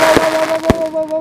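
Two sharp firework bursts from a 4-inch pipe Sivakasi cracker, loud and close, about half a second apart, each followed by a fading crackle, with no talk.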